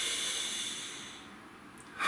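One slow, deep breath drawn in and let out close to the microphone, a soft airy hiss that fades gradually and is followed by a short, sharper burst of breath.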